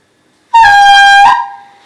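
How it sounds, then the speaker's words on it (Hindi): A homemade horn built from a cut plastic bottle, a balloon and a sketch pen gives one loud, buzzy, reedy honk lasting under a second, up close with nothing else around it. "इसको कट करके इस तरीके से व्यवस्थित करके हमने इसको एक भोंपू जैसा बनाया, और ये बजता भी है"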